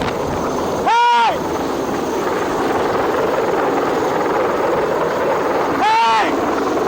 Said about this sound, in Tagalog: sobrang babang paglipad ng Chinese Navy helicopter